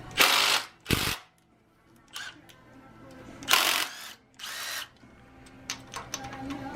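Power tool whirring in short bursts while rocker arms come off a Chevy 4.3 V6 engine during disassembly, several brief close spins separated by pauses and faint shop clatter.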